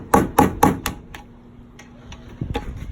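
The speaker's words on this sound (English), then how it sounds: "I like to grab a hammer" Several sharp hammer strikes knock valve cover grommets out of the cover on a 2002 Acura RSX, three or four close, loud blows in a quick rhythm, then lighter taps and clinks in a quiet workshop.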